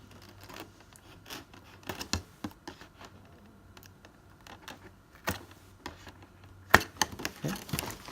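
Scissors or a blade snip and scrape around a sticker on a Logitech G430 gaming headset box, giving irregular sharp clicks and cardboard rustles, close and fairly quiet, with a few louder snaps near the end.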